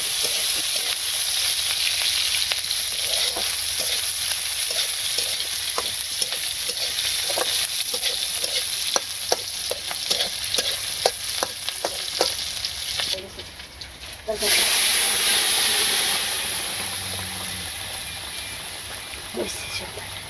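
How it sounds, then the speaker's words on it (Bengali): Onions sizzle in a hot pan in a village kitchen, a steady frying hiss broken by repeated scraping stirs, briefly dipping before a louder burst of sizzle, with faint talk in the background. "পেঁয়াজ দিয়ে দিলেন, নাড়া দিয়ে রেসিটা সুন্দর।"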